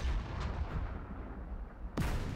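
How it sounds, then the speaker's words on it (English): Tank cannon fire in a World War II desert sand-dunes battle game, a heavy boom rolling off at the start and a second sharp, loud shot near the end. "I keep shooting at this guy"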